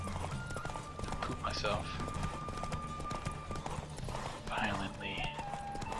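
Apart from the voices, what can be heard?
horse galloping hooves during a race in The Witcher 3 video game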